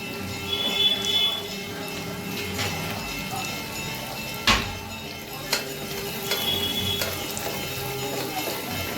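Chilies and onion sizzle in hot oil in a home kitchen, a steady frying hiss broken by a few sharp clattering knocks and scraping stirs at close range.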